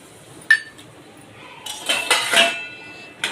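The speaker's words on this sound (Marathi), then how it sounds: "आता ते कढाईत टाकू आणि मस्त तळून घेऊ." Raw peanuts tipped into an empty metal kadhai on a gas stove, landing as a sharp clink followed by a burst of rattling, tinkling scatter against the pan, fairly close and fairly quiet.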